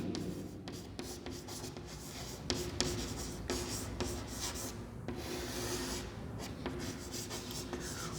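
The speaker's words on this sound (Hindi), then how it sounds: "तो 5वां पॉइंट लिख सकते हैं हम" Steady scratchy writing on a board during a classroom biology lesson, continuous rubbing strokes with occasional sharper taps, close and moderately quiet against a constant background hum, no voices.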